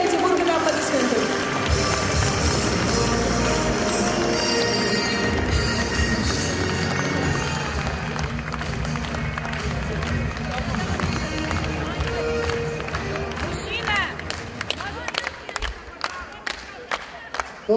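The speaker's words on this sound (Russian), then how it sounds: "Встречайте, бурными аплодисментами." A concert audience in Sochi gives a loud, dense burst of applause that fills the first half, then thins into scattered claps under a speaking voice and music.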